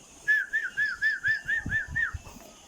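Someone whistles a quick run of about nine short, repeated rising notes in a steady rhythm to call quail chicks, fairly close, against a quiet background.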